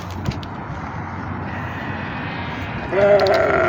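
A goat bleats at the Aziziyah livestock market. A loud, nasal bleat rises near the end over a steady murmur of crowd and market background noise.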